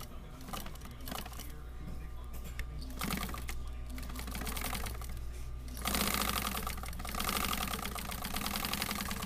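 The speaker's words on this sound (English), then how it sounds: "she's sewing up the piece here" A sewing machine stitches a piece of fabric in quick rattling bursts, close by and fairly loud, with a denser run of stitching toward the end.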